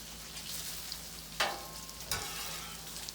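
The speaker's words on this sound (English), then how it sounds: "Got this bacon almost all flipped out." Bacon frying on a Blackstone griddle makes a steady, close sizzle and crackle throughout, with two sharper clatters of a spatula flipping strips against the hot surface.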